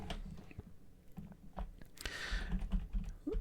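Soft, close clicking of computer keyboard keys as code is typed, irregular taps with brief pauses, quiet and alone.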